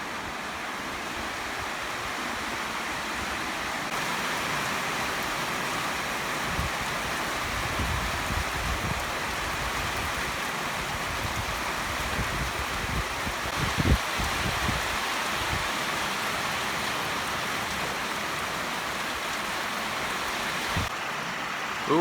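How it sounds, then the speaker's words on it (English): Heavy rain pours steadily near a barn at a Texas garden, a dense, constant hiss lasting over twenty seconds, with occasional louder patters and drips rising out of the wash. "it is raining like crazy"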